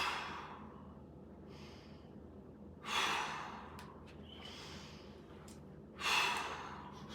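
During a static mobility stretch, slow deep breaths come close to the microphone. Two long, quiet breaths are followed by two stronger exhalations that sound like sighs and arrive at a steady, unhurried pace.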